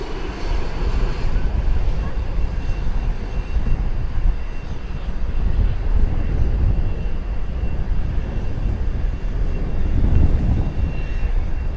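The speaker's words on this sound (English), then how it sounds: "an Airbus A321, just about to touch down" An Airbus A321 airliner touching down on a runway at DFW Airport, its steady engine roar and broadband rumble filling the clip, loud and sustained with a swell near the end.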